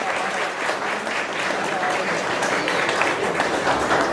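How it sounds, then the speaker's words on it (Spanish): An audience at an archaeology talk about the Isthmus of Tehuantepec and Juchitán gives sustained, even applause, a dense wash of clapping that holds steady and fairly loud throughout. "Gracias, merece el aplauso"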